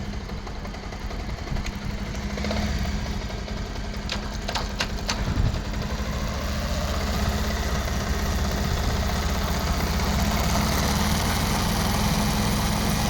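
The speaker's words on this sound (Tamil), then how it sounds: "இப்போ நம்ம வந்து வண்டியை ஸ்டார்ட் பண்ணிட்டு ரைஸ் பண்ணி பார்த்தோம்." After a BS6 power supply alteration, a motorcycle engine is heard starting and then idling and revving close by in a steady mid-low drone, with a few sharp clicks early on and no talking.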